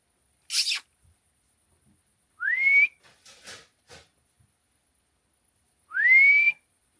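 A person whistles three times, short rising whistled notes separated by pauses, with faint clicks and rustles in between in a quiet room.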